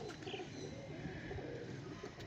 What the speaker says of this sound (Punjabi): ਇਹ ਬੜਾ ਅੱਛਾ ਕਬੂਤਰ ਹੈ